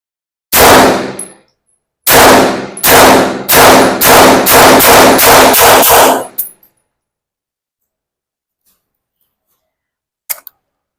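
A Battlearms Xiphos 9 PDW SBR fires a single sharp shot, then a quick run of about eight loud metallic cracks in steady rhythm, followed by silence and a faint late clack.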